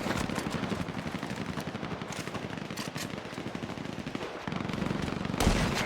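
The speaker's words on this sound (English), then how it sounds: "they're playing LMG" Light machine gun fire in a video game comes in rapid, dense bursts that continue almost without a break for the whole stretch. The firing is loud and busy, with one sharper blast near the end.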